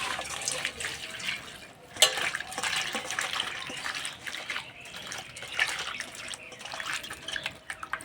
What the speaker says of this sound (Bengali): এবার পরিষ্কার করে ধুয়ে নেব।